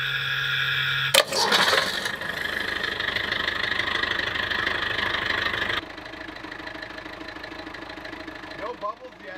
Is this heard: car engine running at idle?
yes